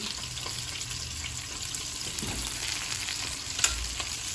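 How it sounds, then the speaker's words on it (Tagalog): Fish fries and shrimp paste (bagoong) sautés in a pan with a steady, dense sizzle throughout, plus a few faint clinks from the pan, close up and without any speech. "Nagigisa pa lang ako ng bagoong."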